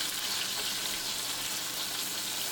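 About 200 grams of ground beef sizzles in a very hot wok for mapo doufu, a dense, steady frying hiss with crackle throughout, close and loud, no voices.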